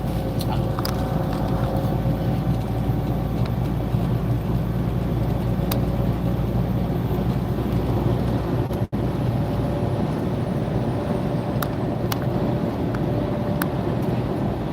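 Steady, loud road and engine rumble from a car cruising on a highway at about 70 mph, a continuous broadband drone with wind noise, one brief dropout midway and no talking.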